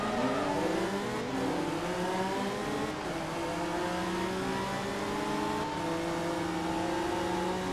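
In the Forza Motorsport 2 racing game, a race car in the GT Championship of Japan accelerates hard, its engine note rising steadily and steeply through the gears at close range, with no talk over it.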